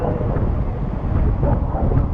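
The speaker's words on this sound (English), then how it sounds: "Very, very windy." Steady, heavy wind buffeting the microphone outdoors at Sliding Rock, a constant low rumble with gusty swells throughout and no voices.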